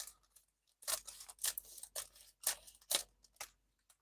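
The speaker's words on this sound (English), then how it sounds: "So one plastic bag, and I have to cut this, I guess. I'm getting my scissors" Scissors snipping through a plastic bag, about six distinct crisp cuts in a steady rhythm, close and clear with no talking.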